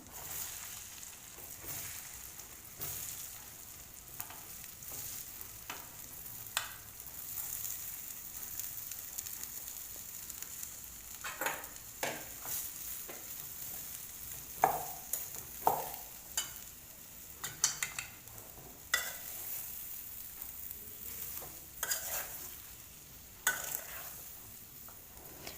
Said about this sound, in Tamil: அதனால் வந்து மீடியம் ஃப்ளேமில் வச்சுட்டு நீங்கள் நல்லா கிளறிக்கோங்க